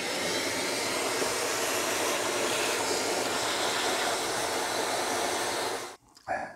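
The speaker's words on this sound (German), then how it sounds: "Deswegen Staubsauger." A vacuum cleaner cleaning dirt from around the ignition area of a Simson S51 moped, a loud steady roaring whoosh that runs for about six seconds before cutting off abruptly.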